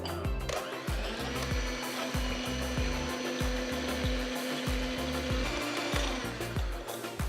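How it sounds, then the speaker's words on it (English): Electric beater whipping chilled egg whites, a steady continuous motorized whir with regular rhythmic knocks of the beaters against the bowl, loud and close throughout. "Now I'm going to beat the chilled egg whites."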